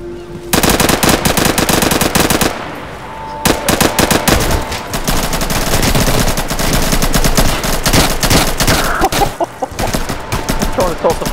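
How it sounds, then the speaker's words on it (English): A German machine gun fires in Insurgency 2, loud and close, in long sustained automatic bursts that go on almost without a break, with faint voices underneath. "Fucking German fucking machine gun"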